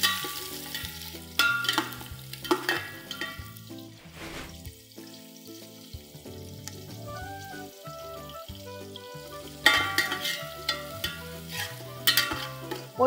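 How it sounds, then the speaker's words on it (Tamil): Onions sauté with chicken in a pot for Thalassery biryani, a steady sizzle broken by repeated loud stirring scrapes and clanks of a spoon against the vessel, close and irregular. "இப்போது வெங்காயம் ஒரு பக்கம் வதங்குது"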